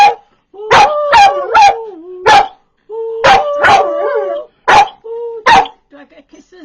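A dog howls and yips in a run of sustained, pitch-sliding vocal bursts separated by brief pauses, loud and close, sounding like it is singing along.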